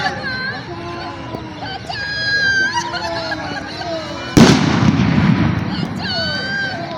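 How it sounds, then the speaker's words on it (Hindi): Simulated bomb blasts during a civil defence and home guard drill at a railway engine factory in Varanasi: one loud, sharp boom followed by a broad rumbling wash of noise, set among outdoor crowd sounds and whistle-like tones. "बमबार्डिंग हुई, बमों को गिराया है।"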